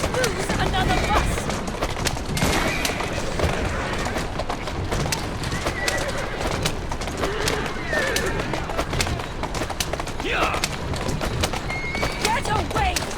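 Horse neighing and clip-clopping hooves in Assassin's Creed Syndicate, set in Victorian London, with a steady busy din of galloping and a few whinnies throughout, under a voice.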